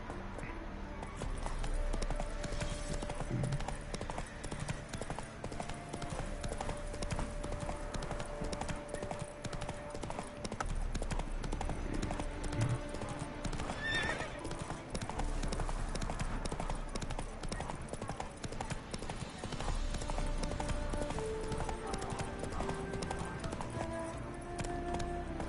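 Horse hooves in The Witcher 3 gallop in a steady, rapid clip-clop rhythm that runs the whole time, close and even in loudness, with faint speech now and then.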